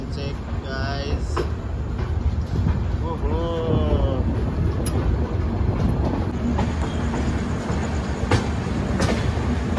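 A superfast express train pulls out of Paltan Bazar station, its steady rumble and rattle running continuously with wind buffeting the microphone, while a voice speaks briefly over it near the start.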